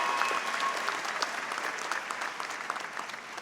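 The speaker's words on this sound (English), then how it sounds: "Give them a big round of applause." Audience applause for teachers and staff at the 2018 Schenectady High School graduation, a dense, steady wash of clapping from a large crowd that holds throughout and tapers slightly at the end.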